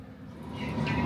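TER regional train rolling along the French Riviera, heard from inside the carriage as a steady rumbling hum with rising track noise, no voices.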